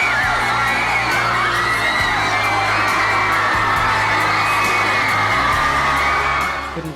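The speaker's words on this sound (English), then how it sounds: "People were screaming." A dense television studio crowd screams and cheers loudly during The X Factor UK live final, a sustained wall of shrieks and whoops with rhythmic bangs underneath, near and overwhelming throughout.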